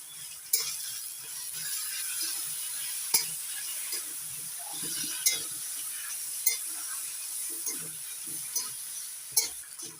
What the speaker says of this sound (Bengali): এবার দিয়ে দিচ্ছি বেটে নেওয়া পেঁয়াজ রসুন আর কালো জিরে বাটা একসঙ্গে ভালো করে মিশিয়ে নেবো